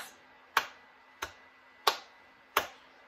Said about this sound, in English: Let's start by clapping our hands.